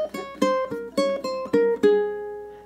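A ukulele plucks a quick run of eight sixteenth notes from a spooky melody, crisp distinct attacks in a steady rhythm, close and clear, the last note left ringing.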